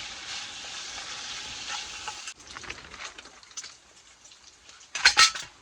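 Bacon sizzles and spits in a pan on a rocket stove outdoors in the woods, a steady close crackle that thins midway, ending with a brief metallic scrape of a utensil.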